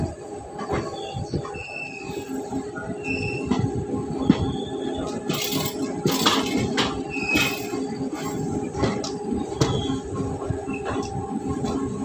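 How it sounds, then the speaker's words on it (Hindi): The Howrah–Delhi–Chandigarh Express rolls along the line near Chandigarh, with continuous rumbling wheels, rattling cars and intermittent high wheel squeals, moderately loud and close. "हावड़ा दिल्ली चंडीगढ़ एक्सप्रेस अभी हम फिलहाल इस लाइन पर जाएंगे"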